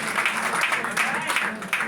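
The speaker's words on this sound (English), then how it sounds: "Let's give her a round of applause once again." Audience applause at a gathering, a short spell of scattered clapping with voices mixed in, moderately loud and fairly close.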